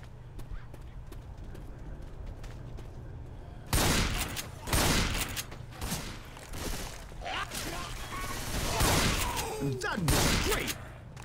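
Repeated shotgun blasts in Left 4 Dead 2 as zombies are gunned down, a run of loud, sharp broadband bursts starting partway through over steady game noise.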